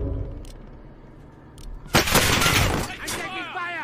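Gunfire in the video game Warzone, a sharp loud burst with crackling impacts midway through, preceded by quieter game sounds, with a voice speaking over it.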